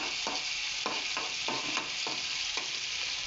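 Garlic paste sizzles in a hot pan, a continuous close hiss marked by about six regular scraping stirs of a spoon, with no talking.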